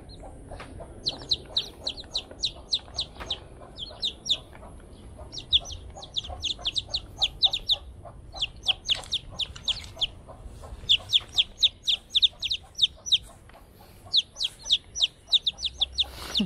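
Chicks peeping in rapid bursts of high, repeated chirps, with a hen clucking low beneath them, close and fairly quiet over a faint background hum; no talking.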